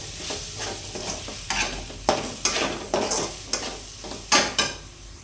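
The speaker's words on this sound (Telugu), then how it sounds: "ఇందులోనే కొద్దిగా ధనియాల పొడి, ఇప్పుడు బాగా కలుపుకోవాలి" Chicken curry with coriander powder is stirred in a pan, a spatula scraping and knocking against the metal in irregular strokes over a soft sizzle, close and clear with no talking.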